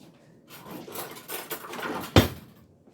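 A fork scraping and stirring muffin batter in a bowl, a soft continuous rubbing texture with one sharper clink near the end, fairly close and without speech.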